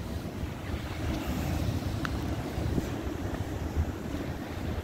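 Ocean surf rolls onto a log-strewn beach near the Coquille lighthouse outside Bandon, Oregon, as a low continuous rumble of waves mixed with gusty wind buffeting the microphone, with no voices.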